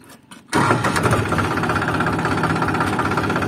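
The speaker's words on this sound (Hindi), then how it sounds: "चलो मैं एक बार ट्रैक्टर स्टार्ट करूँ हूँ" A tractor with a cultivator attached cranks and catches after a brief quiet moment, then settles into a loud, steady diesel rumble running close by.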